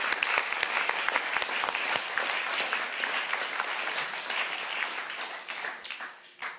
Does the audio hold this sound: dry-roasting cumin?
no